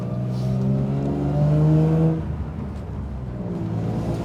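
A BMW E36's 2.8-litre, 24-valve six-cylinder engine revs up close by, holding a strong, steady drone that climbs and then eases back to a lower, rumbling idle. No voices are present.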